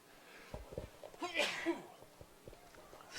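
A single close sneeze bursts out at a high school football game broadcast, preceded and followed by quiet breaths and small mouth noises, fairly soft overall.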